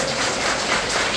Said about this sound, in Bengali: সকলে একটু জোরে হাততালি দেবেন